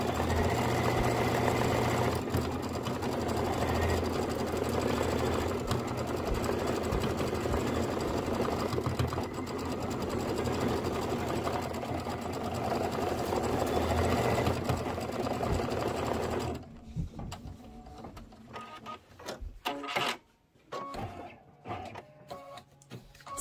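An embroidery sewing machine stitches at a fast, steady mechanical hum for most of the stretch, then stops, leaving faint handling noises and small clicks.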